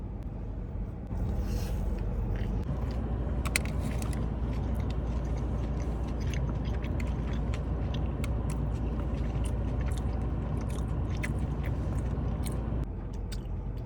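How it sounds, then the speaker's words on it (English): Someone bites and chews a hot Cheeto-coated Korean corn dog, fresh and still hot, with close crunchy bites and soft steady mastication, mostly alone and without talk. "hot Cheeto Korean corn dog while it's still hot."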